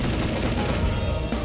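Rapid machine gun fire in a zombie-shooting video game, a loud, continuous stream of dense shots with heavy low thumps that barely lets up across the burst.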